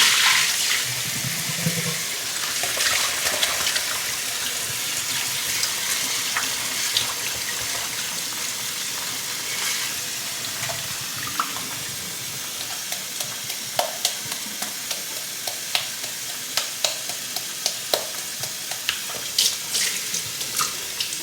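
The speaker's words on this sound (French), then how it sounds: "On va venir rincer une troisième fois." Homemade vanilla butter rinsed under a running kitchen tap, with a steady loud rush of water filling and splashing in a sink, broken by faint clinks and handling sounds throughout.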